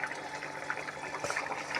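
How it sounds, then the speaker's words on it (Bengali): A pot of Bengali curry bubbles steadily on the stove, a dense close stream of soft liquid pops and gurgles without pause, no talking. "যখন টাপা টাপা মতো হয়ে উঠবে সেটাকে আমার মা বলতো গুগু ডাক।"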